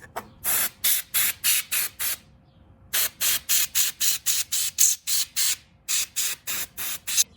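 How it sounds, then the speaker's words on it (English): A small compressed-air blow duster sprays a vacuum cleaner filter in quick, sharp hissing bursts, fired close by in rapid runs of several blasts separated by brief pauses. "these little blow dusters are so good at cleaning filters"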